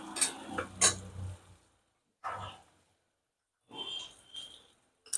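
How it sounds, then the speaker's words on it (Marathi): Ingredients for a horse gram usal, with grated coconut just added, are stirred in a pan over a full flame: short scraping, clattering bursts separated by near-silent pauses, close by. "सर्व वस्तू परतून घ्यायच्या गॅस फुल आहे"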